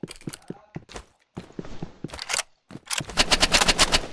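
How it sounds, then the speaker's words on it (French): Gunfire in the Roblox game Rivals: scattered single shots at first, then a loud, rapid string of cracking shots in the last second and a half. "Il a un sniper ou quoi lui?"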